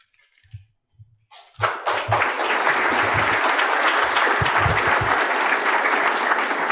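An audience breaks into clapping after a speaker is introduced at a talk event: a few scattered thuds first, then a sudden burst of sustained, dense applause that stays loud and even to the end.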